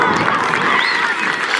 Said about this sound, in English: Let's give a round of applause, folks.